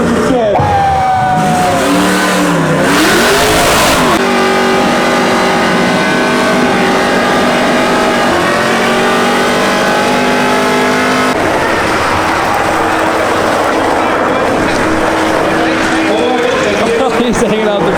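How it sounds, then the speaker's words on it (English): A car doing a burnout at a skids show, engine revving hard and holding high while tires squeal and skid, loud and close throughout, with a crowd and voices heard underneath. "Are you guys ready for some burnout? to see some skids?"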